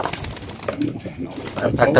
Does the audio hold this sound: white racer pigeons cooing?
yes